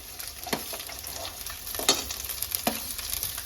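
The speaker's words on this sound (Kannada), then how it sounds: "ಈರುಳ್ಳಿ ಹಾಕೊಂಡ ನಂತರ ನಾನು 1 ನಿಮಿಷದವರೆಗೂ ಫ್ರೈ ಮಾಡ್ಕೊಂಡಿದ್ದೀನಿ" Onion frying in a pan with green chillies and curry leaves, with a steady sizzle and a few scrapes of stirring, close and moderately quiet.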